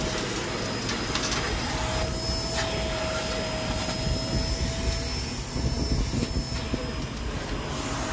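Vacuum cleaner running steadily inside a 2018 Toyota Land Cruiser during interior cleaning, a loud continuous roar with a high whine, close and unbroken.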